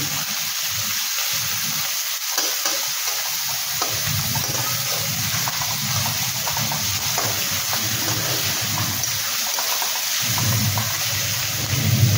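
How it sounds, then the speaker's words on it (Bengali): Onions frying in a pan until reddened, a steady loud hiss of sizzling oil that runs throughout with small shifts in intensity and no talking. "পেঁয়াজটা দিয়ে একটু লাল করে ভেজে নেব।"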